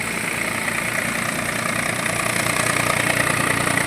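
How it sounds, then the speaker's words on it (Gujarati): A tractor engine idling on a farm during pigeon pea harvest work, giving a steady, close, even chug with a continuous low rumble and no talk over it. "આ ટ્રેક્ટર લઈને આવે છે."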